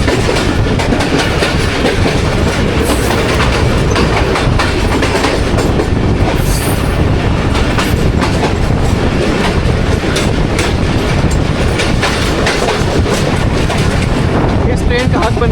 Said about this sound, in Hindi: ये जी रावी रिवर्स से पास हो रही है हमारी 40 डाउन जाफर एक्सप्रेस